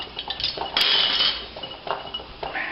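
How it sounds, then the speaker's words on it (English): A metal lid and screw ring going onto a glass canning jar of beets, several close, bright metallic clinks and scrapes packed into a few seconds, with one sharp ringing tap near the middle. "we're going to put a lid and a ring on it"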